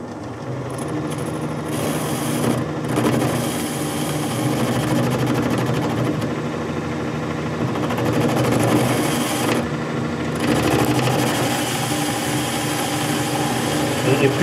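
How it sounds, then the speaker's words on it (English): A metal lathe faces and centre drills the end of a long bar supported in a fixed steady, producing a continuous loud, gritty cutting rasp with slight swells and brief dips. "So all I need to do now is face the end of the bar and centre drill it."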